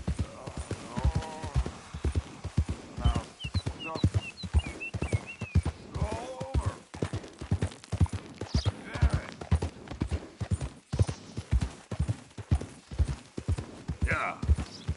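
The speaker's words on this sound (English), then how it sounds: "God damn drunk horse." Horse hooves clip-clop steadily through a PS4 video game, a dense, regular rhythm of close hoofbeats running throughout, with brief whinny-like calls and a voice talking over it at times.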